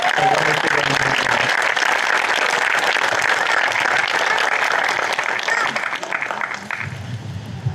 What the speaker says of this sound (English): receive a wonderful round of applause